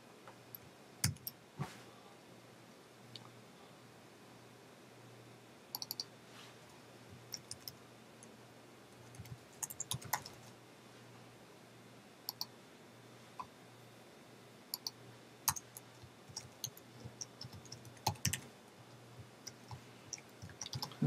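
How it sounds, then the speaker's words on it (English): Sparse clicks and taps from a computer keyboard in an irregular rhythm, with faint bursts of keystrokes over a low steady hum in a quiet room. "I'm just typing all this stuff off the top of my head"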